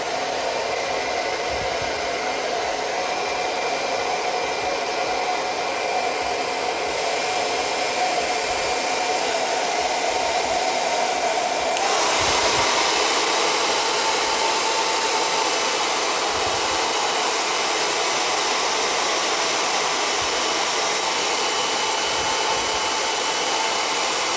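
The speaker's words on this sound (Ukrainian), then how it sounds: "Давайте ще фен включимо на першу швидкість." A hair dryer on its low speed setting, powered by an Aferiy P-210 2400W home power station, blows steadily throughout, a constant airy whir with a slight shift in pitch partway, and no speech.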